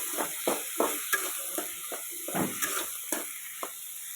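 Boiled peas are being stirred and fried in a pan, with soft sizzling under a run of repeated scraping and tapping strokes from a spatula at an uneven rhythm, close and fairly quiet.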